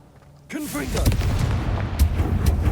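A Confringo blast spell going off in a video game, a sudden loud boom that opens with a whooshing surge and then rolls into a sustained rumbling roar, with a brief spoken incantation at the start.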